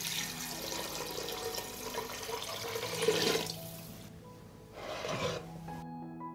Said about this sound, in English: I will pour a liter of water.